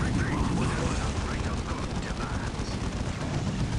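Dense, continuous gunfire and explosions from a Dawn of War Unification 3 vs 3 battle between Space Wolves, Tau and Demon Hunters and Death Guard, a steady roaring barrage with a voice talking over it.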